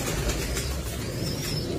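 Pigeons coo softly in an indoor breeding setup, a low continuous murmur of throaty cooing from several birds nearby, with no talking.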